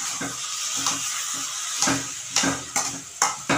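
A spoon stirs and scrapes through ghee heating in a pan while cooking a vegetarian banana-flower dish. Soft sizzling runs beneath several distinct clanks against the pan at irregular intervals.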